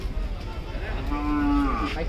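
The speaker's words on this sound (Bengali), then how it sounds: "তো একটা সাদা গরু আসতেছে" A cow at the Gabtoli cattle market gives one drawn-out, rising moo, fairly close and loud, over a low rumble of crowd and market noise.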